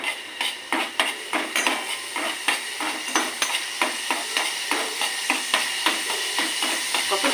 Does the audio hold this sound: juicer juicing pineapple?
no